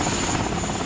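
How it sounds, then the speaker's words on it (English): A helicopter in the video game Men of War: Assault Squad 2 gives a steady, close rotor and engine drone with no gaps and no talk. "release the helicopter"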